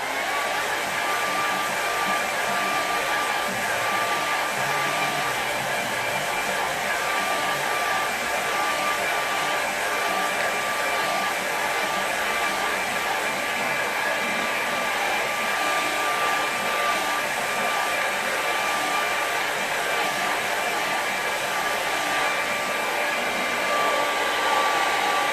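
A hair dryer blows steadily over a wet watercolour painting, a continuous loud whirring roar with a faint high whine that holds unchanged throughout, with no talking.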